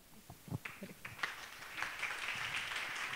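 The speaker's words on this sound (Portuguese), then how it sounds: "Muitos aplausos para nossa diva." An audience at an open class on feminism and self-defense breaks into applause, a few separate claps swelling into steady, dense clapping that stays fairly faint and distant.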